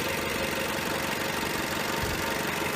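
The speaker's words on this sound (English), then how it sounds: "it is a little loud at high revs, and there is some diesel clatter" A 2014 Dodge Dart engine runs at a steady, dense idle with a rough, clattering diesel-like texture. It is close and continuous, with no voices.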